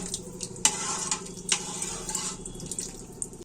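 Vegetable soup being stirred continuously in a pot while something is added gradually, a soft bubbling, watery simmer with a couple of brief scraping strokes of the spoon.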